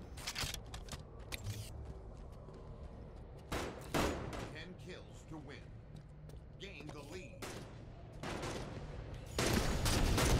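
Gunfire in a competitive shooter video game, scattered sharp shots and short bursts spread across the clip, some loud and close, others fainter, under steady team voice chat.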